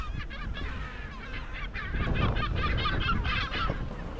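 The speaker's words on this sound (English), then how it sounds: "there are sea lions and seagulls" Sea lions and seagulls call along the Valparaiso seashore near a fish market, a loud, repeated honking and barking chorus of harsh cries that overlap and swell, close by without talk.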